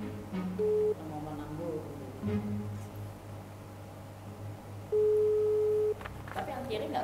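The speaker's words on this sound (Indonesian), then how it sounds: "Nih ya, kita telepon Joko pasti cepet nih." A steady electronic phone tone sounds in two long beeps under a busy room of overlapping voices.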